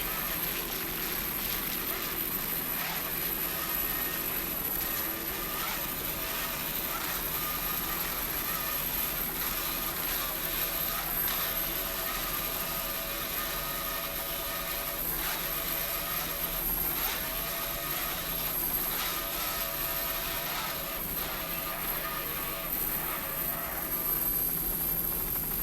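Twin 200-horsepower Mercury outboard engines drive a B-class racing boat, producing a dense, steady roar that stays loud and unbroken throughout.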